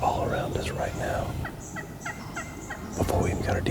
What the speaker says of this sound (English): Before we even got our decoys out, we could hear turkeys around us.